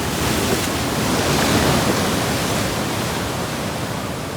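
Ocean surf breaking along a beach shoreline at a fishing spot, a loud, continuous wash of rushing water and foam that swells slightly and then eases, with no voices.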